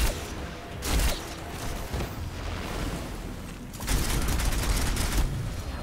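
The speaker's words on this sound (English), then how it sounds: "give me the Reaper cannon. I believe this mode is like a shotgun" A Reaper cannon in Crysis 3 fires in shotgun mode with heavy bursting blasts, a loud volley near the start and another near the end, over continuous gunfire and explosive game noise.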